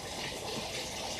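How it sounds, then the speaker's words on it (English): Geothermal hot water pumped through a fountain pours into a pool, a steady close gushing splash that stays level and continuous for the whole brief moment. "we have the pump with the fountain that actually pumps hot water from that pool into this pool"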